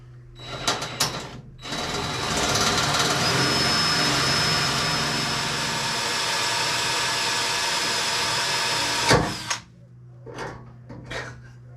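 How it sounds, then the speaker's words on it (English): A power drill bores pilot holes through the wing of a Ford Escort Cosworth, a loud continuous whine held for about seven seconds, with shorter bursts before and after. "just to drill the little pilot holes, and then I'll go through with this bigger one"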